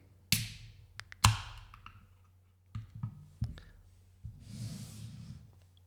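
A can of Odesa craft beer from the Nizashcho brewery is handled and opened up close, with a few sharp metallic clicks and taps followed by a short soft hiss near the end, quiet and without talking.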